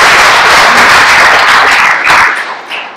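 An audience at a book presentation applauds with dense, steady clapping that fills the room, then thins out and tapers off toward the end.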